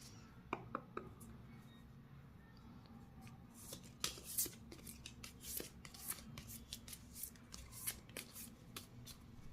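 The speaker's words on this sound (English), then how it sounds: "let's pull out a few oracle cards for you." Oracle cards are shuffled and handled close up, with soft, quiet riffles and flicks coming in irregular clusters over a low background hum.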